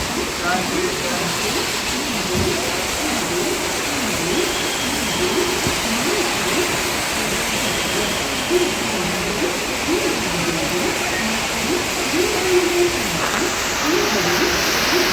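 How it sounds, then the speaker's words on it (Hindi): Heavy rain pours down steadily in a dense, unbroken roar, loud and constant throughout. "तो ये देखिए ज़ोर से लगातार बारिश शुरू हो गई थी, इतनी ज़ोर से आवाज़ आ रही थी ना।"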